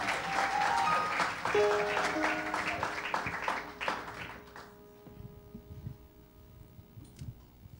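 A church congregation at a Sunday service applauds with dense, reverberant clapping for several seconds, then thins to scattered claps and taps with faint background murmur.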